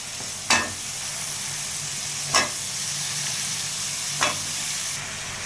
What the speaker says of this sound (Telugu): మునక్కాయలు వేస్తున్నాం.